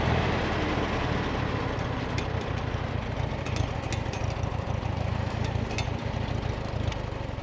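A 1948 Farmall M tractor engine runs steadily close by, a constant loud chugging rumble with a brief metallic tick or two, idling without letting up and with no voices over it.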